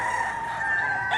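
A brief, close burst of loud, sustained chicken calling at a poultry sale, a single drawn-out cluck-like cry with no talking over it.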